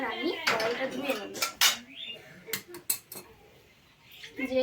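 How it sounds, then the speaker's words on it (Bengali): A kadai and other utensils clank and clatter while being washed, sharp metallic knocks arriving in irregular bursts with scraping in between, close by. "এবার আমি কড়াইটা ধুয়ে নেব।"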